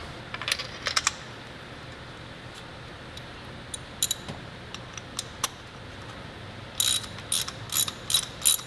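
A ratchet wrench tightens a car spark plug, its quick clicking pawl ticking in short irregular bursts, with a faster run of clicks near the end, close up over a steady low hum.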